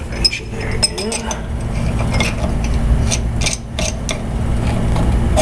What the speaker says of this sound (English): Let's put a wrench in there again.